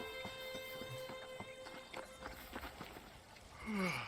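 Hooves clip-clop at a steady walking rhythm as a horse is ridden in the video game Red Dead Redemption, fairly faint under a constant tonal hum, with a brief vocal sound near the end.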